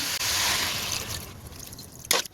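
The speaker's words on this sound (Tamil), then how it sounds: "இந்த கறி வேகிறதுக்கு தேவையான அளவு தண்ணி சேர்த்துக்கலாம்" Water poured into a pot of beef and bitter gourd curry, a short splashing pour fading to trickles, then a brief final splash.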